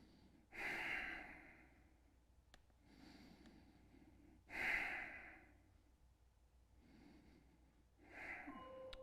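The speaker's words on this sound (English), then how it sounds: "Check in with your breathing. Make sure it's smooth and rhythmic." Slow, smooth breaths in and out through the nose during a yoga session, three soft swells spaced a few seconds apart, close and quiet with no talking.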